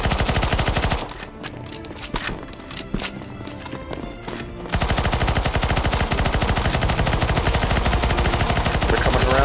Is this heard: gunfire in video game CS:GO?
yes